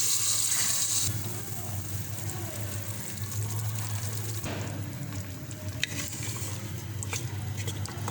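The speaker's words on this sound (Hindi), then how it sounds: "थोड़ा सा पानी डाल दूँगी इसमें ताकि ये मसाला जले नहीं।" Water is poured into sizzling masala cooking in a pan. A bright splashing pour lasts about a second, then gives way to a steady, low frying hiss and bubbling.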